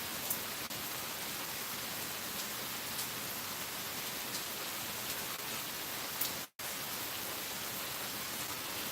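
Steady rain falling outdoors, a dense, even hiss of drops on surfaces that runs unbroken apart from one very brief dropout near the end; no voices.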